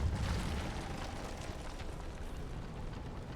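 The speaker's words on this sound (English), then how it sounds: "Looks like I'll have to use the Greek fire." Greek fire blast in Rise of the Tomb Raider, a dense, loud rumbling roar with a heavy low-end boom at the start that stays sustained and churning for a few seconds.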